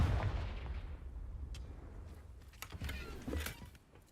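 A Confringo spell explosion in a Harry Potter video game bursts loudly at the start, its deep rumble fading over a second into scattered crackles and small impacts.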